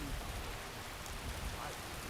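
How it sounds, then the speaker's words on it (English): Steady rain falls in the video game Skyrim, a faint, even wash of hiss with no distinct drops standing out and no one speaking. "I wish it would stop raining. All it's done is rain."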